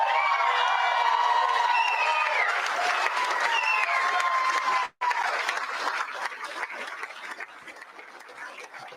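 A political crowd applauds and cheers at a campaign event, loud whoops and shouts rising over dense clapping, a brief cut midway, then the applause continues slightly thinner.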